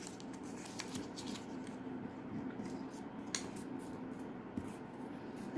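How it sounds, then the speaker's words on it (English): Scissors snip small strips of folded paper in a quiet room, with a handful of soft, crisp cuts spaced irregularly at close range. "with the help of scissors I am just going to cut very small strips like this"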